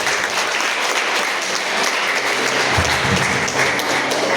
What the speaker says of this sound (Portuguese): aplauda bem forte o nome do Senhor